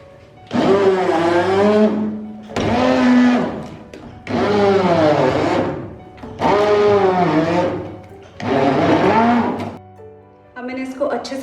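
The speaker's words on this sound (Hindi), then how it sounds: "तो अब हम चूल्हे को बंद कर देंगे और इस सारे को हम ब्लेंड कर लेंगे।" A blender purees soft cooked peaches for a peach punch in five loud whirring bursts, each about a second and a half long with short pauses between them, and then starts a sixth burst. No one speaks.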